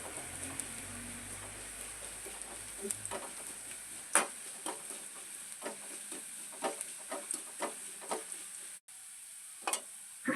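Small shallots frying in oil, a faint, soft sizzle close by with scattered sharp ticks and pops from stirring, sparse and quiet with a short silent gap near the end.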